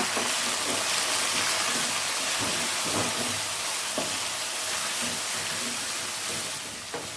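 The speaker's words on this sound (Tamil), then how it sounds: "மல்லி சேர்த்திக்கலாங்க அந்த ஆயிலோட கரட்டி விடுங்க" Coriander leaves sautéing in hot oil for a chutney, a steady bright sizzle throughout with occasional soft clicks of a stirring spoon against the pan.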